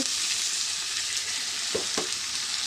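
Water poured into a hot pan while cooking spices, a steady close hiss and sizzle throughout with a couple of brief splashy bursts near the end, no talk.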